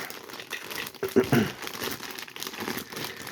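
A Games Workshop Citadel Warhammer 40,000 Gorkamorka Wrecker Trukk model kit package, sealed with a single piece of tape, is pulled open. Close, continuous crinkling of packaging swells into a short, louder tearing rustle, then steady handling noise.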